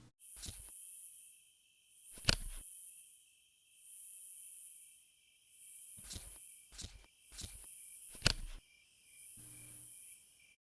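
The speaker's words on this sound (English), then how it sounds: "These background sounds were quieter and had crickets and cicadas in the distance." Quiet ambient background from a nature-themed puzzle game, with crickets and cicadas chirring in the distance in repeating bursts, broken by a few sharp clicks.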